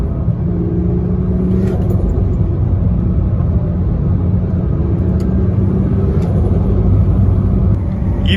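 A turbocharged BMW E46 cruises on the road with a steady, loud low engine rumble and drone heard from inside the car, continuous throughout with no talking.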